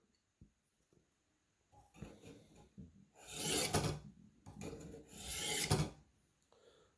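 Classic Buck 119 hunting knife drawn across a Warthog knife sharpener, giving a few faint scrapes and then two loud, rasping grinding strokes close by, with no talk.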